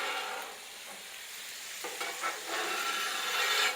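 Shrimp sizzle and crackle on a warped flat-top griddle with liquid pooling in one corner, a steady close frying hiss with scraping stirs over it.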